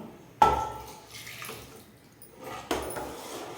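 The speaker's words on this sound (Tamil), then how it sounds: "இதில் இந்த பச்சை பாலை வந்து அப்படியே விட்டுருவோம்" Raw milk poured into a cooking pot for akkara vadisal, a sweet rice and milk dish, splashing in two distinct bursts with a quieter liquid trickle between them.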